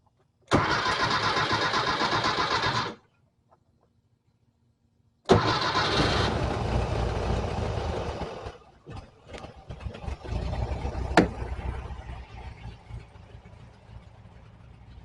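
A 1968 VW Type 3 with fuel injection and a disconnected thermostat, cold after a long soak, cranks briefly and catches, then a second loud crank-and-start settles into a rough, uneven idle close by, with no talk.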